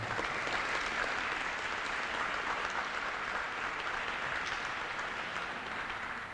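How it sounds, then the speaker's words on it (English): Steady audience applause at an awards ceremony luncheon, an even wash of many hands clapping from a moderately distant crowd, sustained without a break for over six seconds and fading slightly at the end. "Big round of applause."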